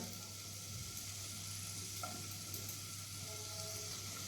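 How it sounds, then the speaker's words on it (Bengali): Chopped garlic and ginger fry in a pan until reddish, giving a faint, steady hiss of sizzling oil with a low background hum and no voices. "রসুন ও আদা কুচি আমি লাল লাল করে ভেজে নিয়েছি"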